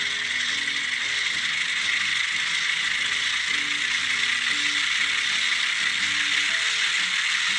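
Continuous mechanical hissing and ratcheting handbrake sound from an Atlas N scale New Haven RS-3 model locomotive with ESU LokSound V5 sound, steady and fairly loud, with no talking.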